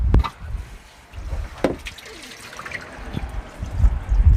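Water splashing and trickling into a stock tank as it is filled for a fish rescue, with uneven low gurgles and splashes swelling near the end.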